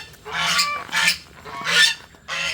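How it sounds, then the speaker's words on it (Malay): A tame goose kept in a garden beside a house honks four times in a loose rhythm, each call a harsh, nasal blast at close range, with no talking. "Angsa tulus ni angsa paling jinak."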